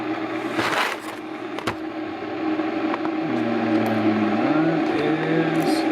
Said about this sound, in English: And while my water is heating, you can hear the noise in the background.